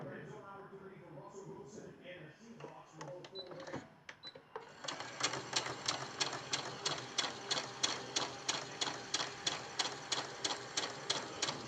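A sewing machine stitches a scant quarter-inch seam on a quilt block, starting after about five seconds with a steady, rapid mechanical clatter. The rhythm runs evenly to the end, and a voice speaks softly over the quieter opening.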